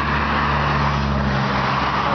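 Steady road traffic with cars rolling past, a continuous loud engine and tyre rumble that never lets up, with a brief dip in the low hum partway through.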